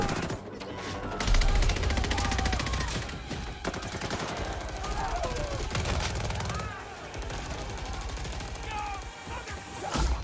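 Bursts of AK rifle fire in a Battlefield 2042 trailer crackle densely over a chaotic battle mix, with rapid shots and booms continuing throughout.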